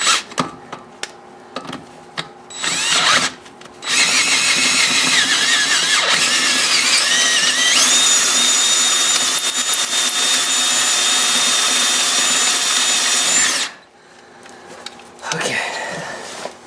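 A step drill bit bores a hole for an M12 bolt on a Mini strut mount area, a loud sustained high-pitched whine lasting about ten seconds, with brief clatter before and after.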